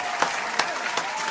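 A brief spell of audience clapping, a dense patter of hands punctuated by a few sharper, louder claps at regular intervals, with no speech.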